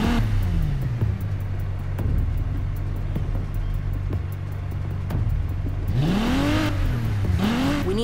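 A car engine in the racing video game Need for Speed Heat idles in a steady low drone, then revs with rising and falling sweeps near the end alongside a faster vehicle whoosh.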